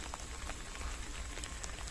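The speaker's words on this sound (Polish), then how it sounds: "Wiecie, to nie jest śnieg, to jest grad." Hail falling outdoors near a forest in winter, a steady faint patter of small ice pellets with scattered sharper ticks, continuous and without voices.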